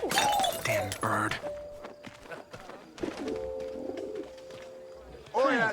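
Pigeon cooing in the video game 11-11 Memories Retold, a few soft coos mixed with in-game voices and ambient battlefield noise.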